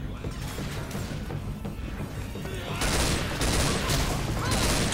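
Rapid gunfire bursts from the Left 4 Dead 2 versus mode crackle steadily throughout, growing denser and louder in the second half with sharp broadband blasts.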